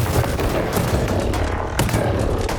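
Robot weapons firing in the War Robots Frontiers video game, a dense, sustained barrage of gunfire with a sharp burst partway through, loud and continuous with no talking.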